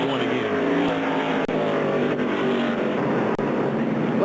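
NASCAR stock cars roar around the track in a continuous loud, steady engine drone with slight surges, while a commentator talks over the racing.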